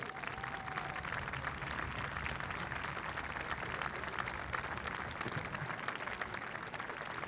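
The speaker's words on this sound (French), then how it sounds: "Si vous voulez bien vous lever afin que nous puissions vous admirer et vous applaudir" A large seated audience at an outdoor inauguration ceremony applauds air force officer cadets from the Salon-de-Provence air base, a dense, steady wash of clapping that holds evenly throughout without pause.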